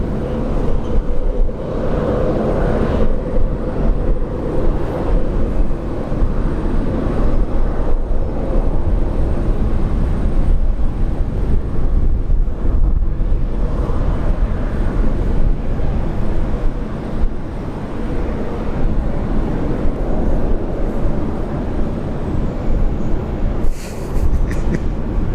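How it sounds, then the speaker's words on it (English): An Emirates Airbus A380 double-decker airliner at Brisbane Airport produces a loud, continuous jet-engine roar that holds steady for the whole stretch, with no speech over it. "sure is the A380 double decker"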